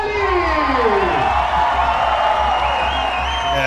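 A tennis crowd cheers and whoops loudly and steadily as a player, 47th in the world ranking, walks onto the court at an ITF match, with excited voices rising and falling throughout.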